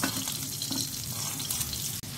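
Prawns shallow frying in hot oil, a steady close sizzle and crackle filling the short stretch with no break until a brief dip near the end.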